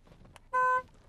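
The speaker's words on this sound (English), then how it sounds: "if you guys just heard that, I have like the most girliest horn for a truck" A single short, high-pitched truck horn honk in a Walmart parking lot, clear and close, against quiet background noise.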